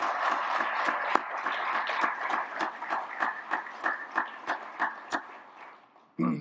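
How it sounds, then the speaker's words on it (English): Audience applause for the sponsors at the 2021 Worlds of Flavor conference, a sustained round of clapping that thins toward the end into scattered individual claps, ending with a brief noise. "A big round of applause to all of our sponsors."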